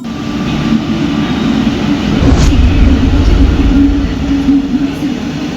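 The Nilgiri Express, running with LHB coaches, rumbles loudly at a station in a constant low roar and drone, with a brief sharp metallic accent partway through.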